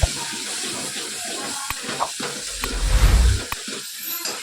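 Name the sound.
stirring masala gravy in a pan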